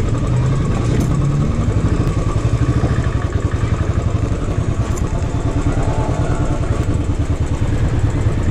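Motorcycle engine on a ride through the streets of Akkalkot city, a close, loud, steady pulsing drone with fast rhythmic firing that holds unbroken throughout, with no talk over it.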